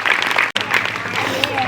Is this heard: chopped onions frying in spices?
no